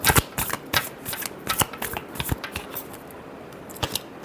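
Tarot cards being shuffled by hand, a run of crisp riffling snaps and papery flicks in uneven bursts, close and clear with no talking.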